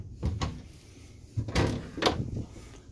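A drawer in a 2004 Fleetwood Pace Arrow 37A Class A gas motorhome slides and thumps shut, giving several sharp wooden knocks and bumps in quick succession, close and fairly loud, with no talking.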